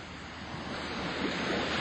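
Ocean waves wash in a steady, broad surf roar with some wind, used as a sound effect in a radio reading, swelling slightly and heard alone without talk.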